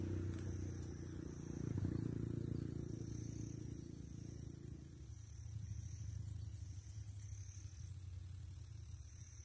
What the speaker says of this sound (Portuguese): Passando o carro aqui direto, próximo da estrada, moto.